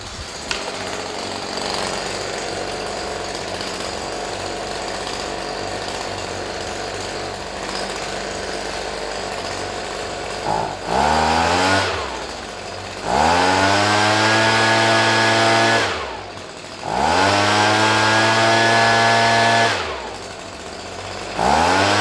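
A Stihl BG55 two-stroke leaf blower engine idles roughly, then revs up loudly in several long bursts, whining high before dropping back to idle; close and harsh.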